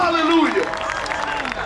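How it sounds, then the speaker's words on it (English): Hand clapping from an audience at an evening festival gathering in Morganton, North Carolina, under a voice that carries over the start; a continuous patter of many hands. "Give a hand clap if you love the Lord"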